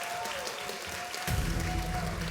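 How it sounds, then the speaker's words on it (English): A conference audience claps for a speaker, a steady wash of applause that swells louder and fuller halfway through. "put your hands together for a big round of applause for Fonz Morris."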